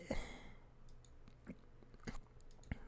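Crunchy Domino's pizza being chewed, with a few distinct crisp bites and crunches spaced out over a quiet background, close to the mic.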